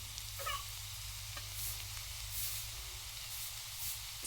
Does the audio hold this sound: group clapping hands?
no